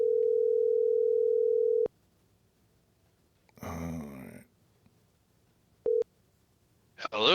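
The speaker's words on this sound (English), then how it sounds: "I got to call Lewis back." A steady telephone dial tone hums for about two seconds and then cuts off, followed by a short rustle and a brief second burst of tone, with no one speaking.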